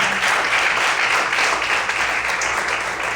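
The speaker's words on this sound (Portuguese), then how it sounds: "Você pode aplaudir ao Senhor nessa noite" A church congregation applauds during an evening service, giving continuous, even clapping at moderate volume for about three seconds with no talk.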